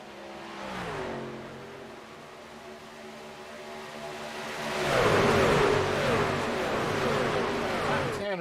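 Race car engines drone through a pack at Daytona in the iRacing sim, a steady whining roar that swells louder toward the end as cars pass, with a commentator talking over it.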